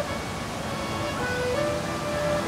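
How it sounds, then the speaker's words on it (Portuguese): A constant roar of a waterfall at a swimming spot in Extrema, Minas Gerais, Brazil, broad and steady, heard from a moderate distance without any talking. "E olha a cachoeira."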